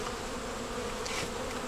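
Honeybees flying all around their hives on a warm, sunny day, producing a steady diffuse buzz from many bees, moderately faint, with an occasional closer bee passing and no talking.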